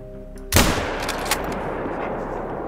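A single loud rifle shot aimed at a feral goat in the hunting game Call of the Wild, a sharp crack followed by a rolling echo over steady outdoor ambience.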